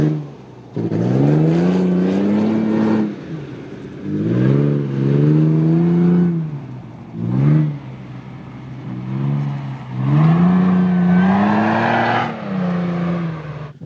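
A supercharged Toyota FJ Cruiser with a Magnuson supercharger and aftermarket intake revs repeatedly, each close, loud throttle blip rising in pitch with supercharger whine before falling back to idle, about four or five revs in sequence.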